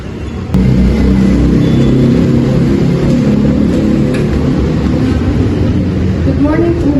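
A motorcycle engine runs steadily and loudly in a hotel parking area, a constant close rumble from start to finish.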